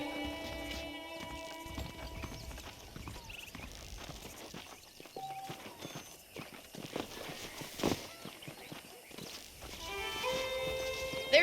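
Horse hooves clip-clop at a walking pace in Red Dead Redemption, a steady rhythmic tread with ambient game sounds and music tones around it, fairly close and moderately loud.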